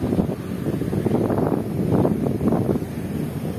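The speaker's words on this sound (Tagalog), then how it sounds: "Ay, mahangin dito." Gusty wind buffets the microphone with a low, rumbling roar that swells and eases in waves, with no voices.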